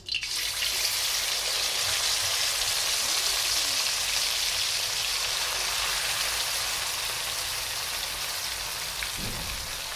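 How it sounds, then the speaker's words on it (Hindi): Sarson ka saag, chopped mustard greens, is tipped into a hot pan of tadka with green chillies, setting off a loud, continuous, rain-like sizzle that starts sharply and holds steady, with no voices. "अब हम इसे साग को इसके अंदर डाल देंगे।"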